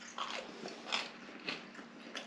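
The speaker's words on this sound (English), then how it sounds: "It's the crunch that does it." Close-up biting and chewing of homemade pizza crust baked in cast iron, crunchy crackles, about four evenly spaced crunches over a couple of seconds, no voices.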